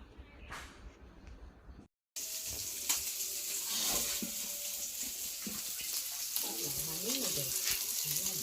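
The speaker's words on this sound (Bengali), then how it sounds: "কি রান্না হইতেছে শিং মাছ না শিং মাছ দিয়া শিং মাছ দিয়া পেঁপে দিয়া" Stinging catfish (shing) with papaya cooking in a pan makes a continuous frying sizzle with stirring sounds. A short silent gap comes early, and voices speak over the cooking near the end.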